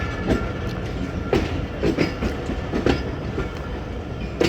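A passenger train runs on the tracks between Jhelum and Wazirabad in Pakistan, wheels clacking in a steady, uneven rhythm of sharp clicks over a continuous rumbling roar, heard close and loud from on board with no talk.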